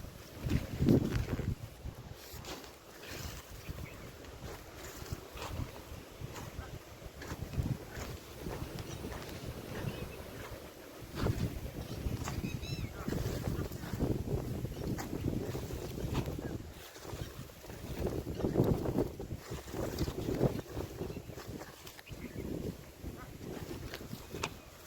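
Steady wind gusting across an open outdoor spot, a continuous broadband rush with louder swells at the start and again around the middle and end, buffeting the microphone throughout.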